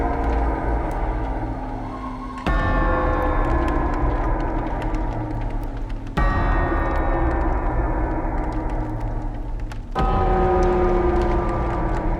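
Large clock in Layers of Fear chiming after being knocked: three loud, sustained, ringing strikes a few seconds apart, each decaying slowly into a low hum, with no talk.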